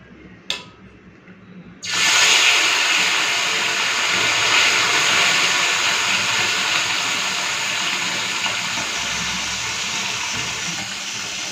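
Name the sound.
mourala fish frying in hot oil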